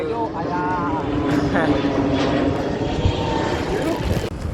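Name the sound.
airplane flying overhead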